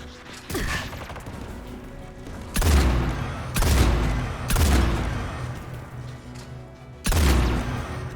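Rocket blasts in Mass Effect 3 Legendary Edition during a fight against Geth: four heavy, booming impacts land a second or two apart over a continuous rumble of combat noise.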